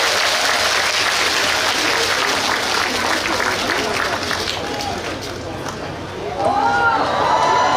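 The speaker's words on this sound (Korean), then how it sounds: "우리 또 어여쁜 댄서분들 박수 한 번 부탁드리겠습니다" Audience applause at a ginseng festival stage in Hamyang, dense steady clapping and crowd noise filling the whole stretch, cheering for dancers, with a brief dip near the end before swelling again and faint voices mixed in.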